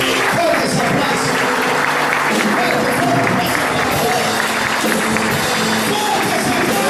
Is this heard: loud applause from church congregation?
yes